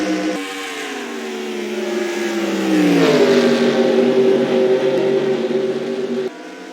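NASCAR-style stock cars race side by side toward the line in a racing video game, their engines droning in a loud sustained whine that rises in pitch, then cuts abruptly to a quieter level near the end.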